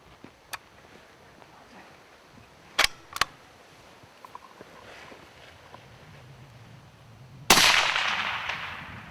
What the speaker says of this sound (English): So let's go ahead and take a shot.